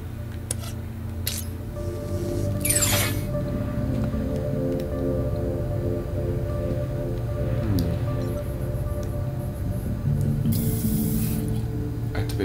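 A sink tap in the game Beyond a Steel Sky runs steadily throughout, a loud close gush of water over a low mechanical hum, with no voices.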